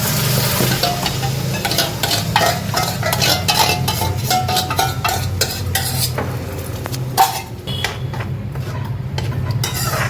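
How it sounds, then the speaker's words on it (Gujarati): Gravy hitting hot oil in a pan, heard as a loud, busy sizzle with rapid stirring and utensil scrapes against the pan that gradually settle toward a quieter crackle, with no talking. "તો હવે તેલ ગરમ થઈ ગયું છે. હવે હું એમાં ગ્રેવી નાખી દઉં."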